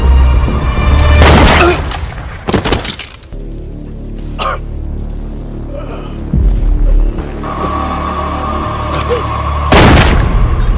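Gunfire in an action film scene: several loud booming bursts ring out, spread across the scene, with a low throbbing hum filling the gaps between shots.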